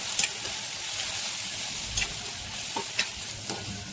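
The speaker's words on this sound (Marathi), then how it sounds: "गॅसच्यात मोठी ठेवलेली व्यवस्थित असं मिक्स करून घ्यायचं." Radish pods stir-frying with red chili powder, turmeric and salt over a high gas flame make a constant close sizzle, with spatula scrapes and taps falling every half second or so, and no voices.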